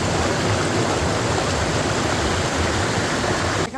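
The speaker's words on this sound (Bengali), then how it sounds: "এই যে ঝর্ণা যাচ্ছে, এটারই আওয়াজ হচ্ছিল এতক্ষণ ধরে" A waterfall on Parasnath hill in Jharkhand pours down in a steady, dense roar of rushing water that fills the whole clip at close range, with a brief dip and a small disturbance near the end.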